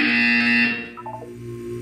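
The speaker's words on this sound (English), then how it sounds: "You will hear a buzzer. When you hear the buzzer, look up at the ceiling." A loud, steady electronic buzzer tone in the video game Portal 2 holds for under a second, then drops into a softer, wavering electronic note before fading to a low hum.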